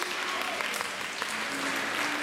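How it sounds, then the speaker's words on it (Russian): An audience in a school hall, gathered for a first-grade class performance, claps in a steady, dense burst of applause that stays even and close for the whole stretch. "давайте мы с вами договоримся, что будем приветствовать всех наших выступающих бурными аплодисментами"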